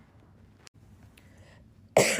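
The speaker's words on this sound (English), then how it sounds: "I literally just had to clear my throat." A woman gives a single sudden, loud cough or throat clear at the end, after a near-silent stretch with a couple of faint clicks.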